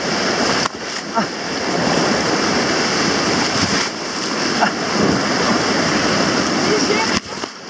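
Whitewater rushing around a kayak surfing a wave on the Tarn river near Millau, a loud, continuous close roar of churning water with wind buffeting and a few sharp knocks.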